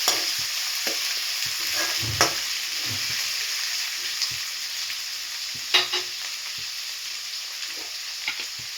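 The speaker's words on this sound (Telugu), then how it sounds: "అన్నీ వేసుకొని ఫ్రై చేసుకోండి" Curry leaves, chopped onions, green chillies and spices frying in a pan, a continuous close sizzle broken by frequent scraping stirs and occasional sharper clatters, with no voices.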